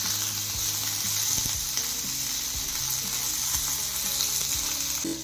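Green chillies, peanuts, garlic and cumin sizzle steadily in a hot pan, a loud continuous frying hiss with occasional scraping from stirring.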